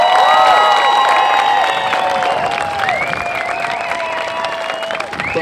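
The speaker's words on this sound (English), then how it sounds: "can we, give it up for this group a little bit, please? Let's round of applause." At a Littleton school moving-up ceremony, an audience claps and cheers for a group, a full burst of applause threaded with high whistles and children's shouts that is loudest at first and then settles.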